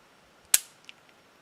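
One sharp handgun shot cracks at an indoor-style shooting range during a beginner draw-and-fire drill, followed by a brief fading tail and a faint metallic click; no speech.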